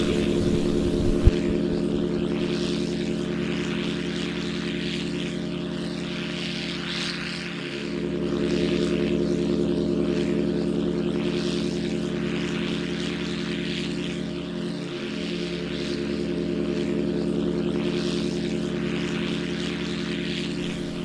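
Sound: propeller drone flying

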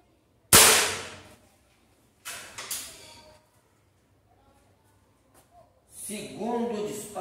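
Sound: Rossi Dione air rifle shot at a tyre

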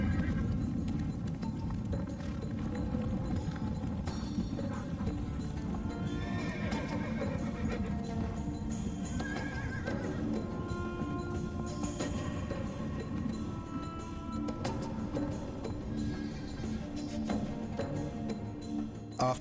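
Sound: horses neighing and hooves clip-clopping at breeding station

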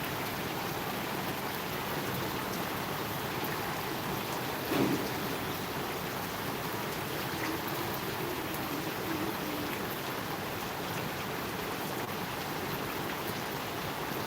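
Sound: rain

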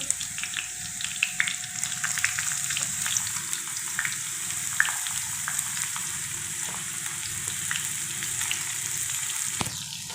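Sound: ginger cooking in a pan

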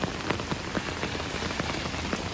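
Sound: heavy rain falling

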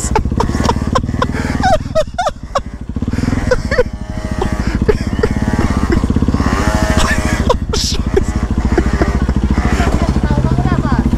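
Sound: Peugeot Speedfight scooter engine running

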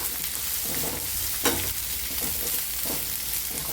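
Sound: onions sautéing in a pan with salt

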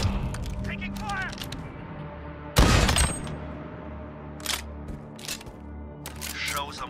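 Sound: gunfire in Call of Duty: Modern Warfare video game

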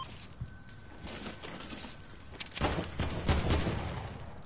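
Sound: Heavy AK gunfire in the video game Fortnite

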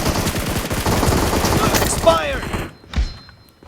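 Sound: gunfire in PUBG Mobile video game

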